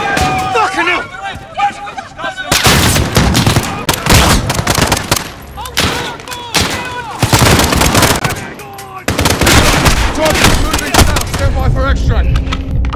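Bursts of automatic and single-shot gunfire in the Call of Duty: Modern Warfare (2019) campaign, loud and close, with rapid volleys repeating through a chaotic firefight while voices shout over the shooting.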